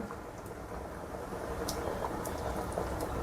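Rice with almonds, cashews and raisins bubbling in a pot for Arabian chicken kabsa biryani, a soft steady simmer with faint pops, quiet and close.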